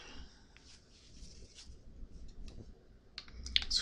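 Several small mouse clicks and soft ticks spaced across a quiet room with low background hiss, with a slightly louder cluster of clicks near the end.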